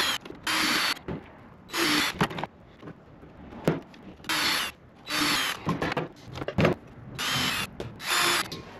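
A power drill bores pop rivet holes through a carbon fiber panel in short repeated bursts of whining, each lasting about half a second to a second, separated by brief pauses and small clicks.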